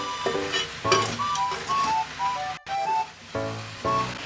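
Cut okra (ladies finger) frying uncovered in a pan, a continuous close sizzle broken by stirring scrapes and brief pauses, with a tonal hum-like background throughout.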